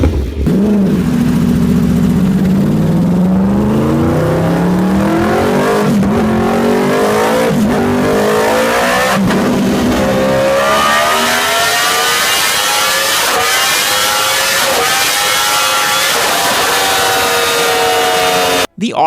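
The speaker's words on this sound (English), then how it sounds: "the distinct note from the cross-plane crank is one that is just too throaty and mean" A loud Yamaha R1 sport motorcycle engine with a cross-plane crank revs hard and climbs through the gears, a throaty, rumbling howl that rises in pitch again and again.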